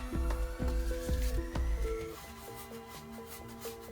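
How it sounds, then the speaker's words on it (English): A wide paint brush sweeps back and forth across canvas as white and blue paint blend, a steady close, soft rubbing swish in regular strokes under faint background music. "So I'm blending back and forth with this wide brush"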